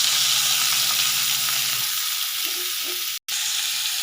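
Fennel powder frying in hot oil at the start of an egg gravy, a steady close broadband sizzle with a low bubbling crackle that settles halfway through and cuts out for an instant near the end.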